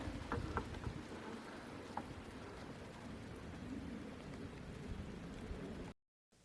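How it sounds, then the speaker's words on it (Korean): Heavy rain pours steadily, a dense continuous hiss of drops striking surfaces nearby, with a few sharper taps early on, before cutting out abruptly at the end. "비가 너무 많이 오는데."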